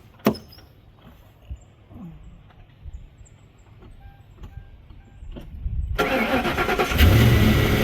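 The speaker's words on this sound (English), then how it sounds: "start your vehicle, bring the windshield wipers to the up position, and turn the key off" A car engine cranks and catches near the end on a wintry day, after quiet knocks and small handling noises. It settles into a loud, steady idle.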